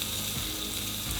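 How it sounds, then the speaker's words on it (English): Bacon sizzles and fries steadily in a pan at a beachside campsite, a continuous close crackle with no voices over it. "I'm making a very exciting dish of bacon and eggs. This is the bacon half."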